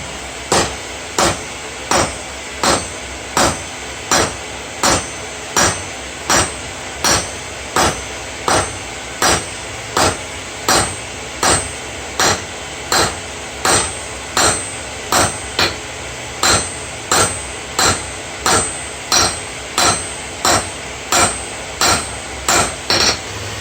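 Steady, evenly spaced hammer blows ring out on hot metal while a hobbyist forges a seax, a long series of sharp, loud metallic strikes repeating at an even rhythm with no talking.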